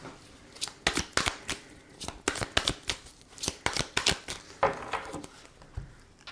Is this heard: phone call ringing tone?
no